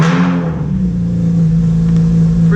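A loud, close Honda Accord exhaust drones and revs, with a deep steady rumble and a rising roar.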